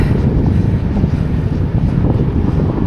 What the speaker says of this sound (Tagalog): Maganda yan, malakas ang hangin